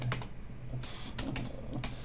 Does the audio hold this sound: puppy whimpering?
no